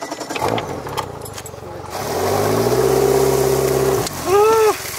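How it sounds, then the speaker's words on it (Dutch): Outboard motor on a small fishing boat out pike fishing being started: a brief clatter and rustle, then a cranking, catching engine settling into a steady mid-pitched running drone, with a short rising whine near the end. "jij mag de motor starten"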